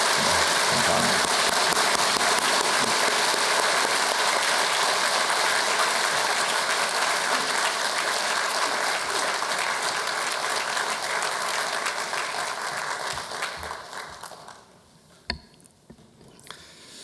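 A church congregation applauds to welcome a newcomer during a worship service, with loud sustained clapping from many hands that tapers off and stops near the end, leaving a few scattered sounds.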